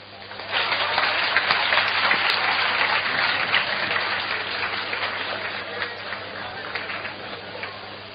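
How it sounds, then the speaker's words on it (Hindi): Audience applause at a Hindi lecture on wealth and poverty: steady, dense clapping fills the hall for about eight seconds at moderate level, continuous and unbroken without a clear start or end. "ताली तो बजाओ"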